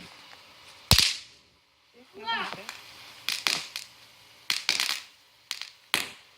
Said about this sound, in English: You just throw them in and it pops.